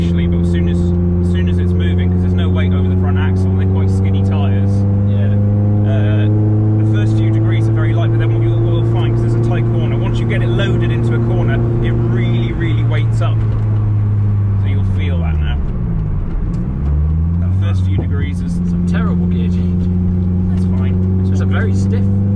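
A Lotus Elise S3 sports car pulls away, its engine note rising through the revs, dropping sharply at a gear change and then climbing again. The sound is loud and close from inside the car.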